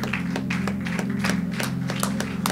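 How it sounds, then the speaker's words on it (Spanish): A church congregation claps during a Spanish-language Sunday service, a steady patter of many hands over a constant low organ or keyboard drone, fairly close and continuous. "Denle un fuerte aplauso a Jesús."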